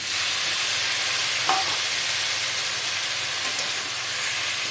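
Steady hiss and sizzle from a pan as jackfruit curry with added tomato puree is stirred with a spatula, close and continuous throughout with a faint scrape or two.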